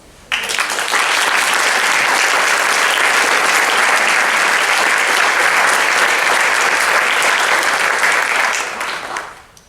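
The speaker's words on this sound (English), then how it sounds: "a heartfelt round of applause" A graduation ceremony audience bursts into sustained applause, a dense wash of clapping that holds steady for several seconds and then tapers off.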